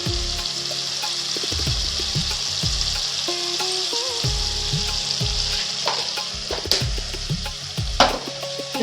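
Taro root curry with ground coriander and chilli powder is being stirred in a pan, a spoon scraping and clacking rhythmically against the metal over a continuous loud sizzle, with a few sharper knocks near the end.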